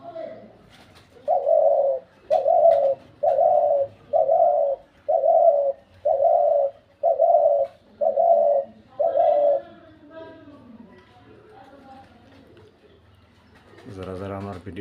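A pet bird gives a run of about nine evenly spaced, loud, close cooing calls in a steady rhythm, followed by quieter rustling and a short burst of voice-like noise at the end.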